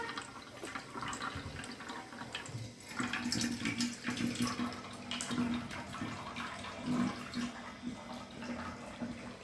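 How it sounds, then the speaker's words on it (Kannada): Water pours steadily out of a bottle during an air pressure experiment with a balloon fitted over its neck, a soft continuous gurgling trickle heard close by with no talk. "ಎಷ್ಟು ಚೆನ್ನಾಗಿ ಆ ಬಾಟ್ಲಿನ ನೀರು ಬರ್ತಾ ಇದೆ"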